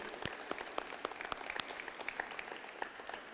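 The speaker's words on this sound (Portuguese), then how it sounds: "Salva de palmas para Jesus" A church congregation at a communion service claps for Jesus, faint, somewhat distant applause with scattered crisp individual claps popping out over the steady patter.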